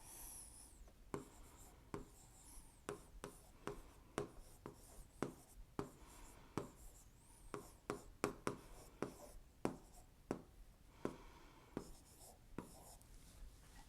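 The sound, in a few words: drawing a line on paper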